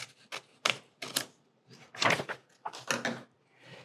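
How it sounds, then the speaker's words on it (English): Scissors cutting through vinyl decal backing paper, a series of crisp snips and crinkling cuts in short bursts with pauses between, close and fairly quiet, no talking. "We're gonna cut the backing."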